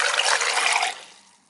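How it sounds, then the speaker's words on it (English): Water pours into a pot of cocoyam with tomatoes, scotch bonnets, peppers, ginger and onions, a steady close splashing rush that cuts off and fades quickly. "We're gonna top it with water,"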